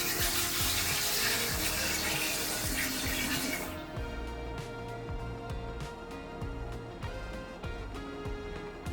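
Water pours in a loud, rushing stream into a container being filled to its fill line while preparing grain for mushroom grain spawn, the gush easing partway through into a softer, bubbling trickle, close up and without talk.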